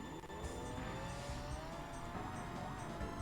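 Kart engines buzz continuously in an N64 racing game played on PC, with shifting engine whine and brief tire squeals, at a fairly quiet level.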